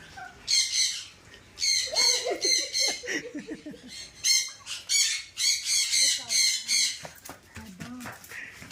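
Loud, harsh bird squawks burst out repeatedly in clusters, close by, with sharper chirps scattered between them.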